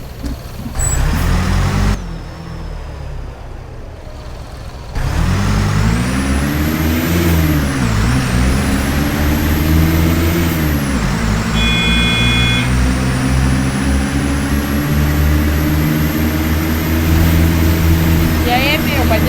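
Simulated bus engine in the game Proton Bus roars loudly and continuously, its pitch climbing and dipping as it revs, with a brief quieter gap early on and a whining tone rising near the end.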